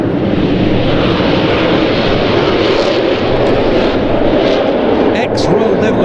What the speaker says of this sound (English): 6 Northrop NF5s of both single-seat NF5A and 2-seat NF5B models of the Turkish Air Force aerobatic team